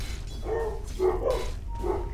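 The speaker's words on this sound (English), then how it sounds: "my dogs were arguing with somebody outside" Several dogs bark at someone outside a house, muffled short woofs and yips coming in uneven bursts of four or five, with a low steady hum underneath.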